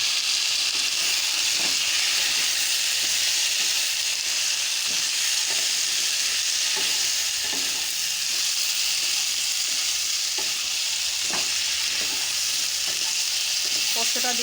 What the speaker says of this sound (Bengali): পোস্তটা দিয়ে একটু নাড়াচাড়া করে নেব